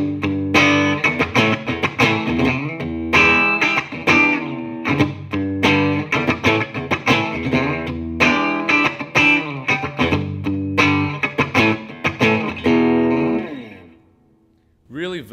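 A Fender Squier Deluxe Jazzmaster electric guitar on its bridge pickup through a distortion channel plays loud, crunchy chords and riffs in a rhythmic pattern, ringing out before a brief pause near the end.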